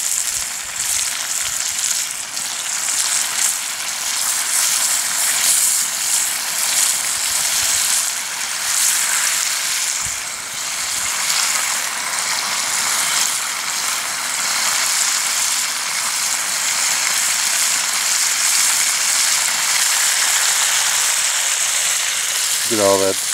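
Hot frying grease with wild deer innards sizzles and crackles loudly and continuously as water boils out, a dense frying hiss with a low hum underneath and a brief voice near the end.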